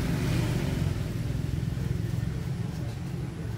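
A Yinxiang 200 motorcycle engine idles after reassembly, giving a close, steady low throbbing pulse with a fast even beat that holds throughout.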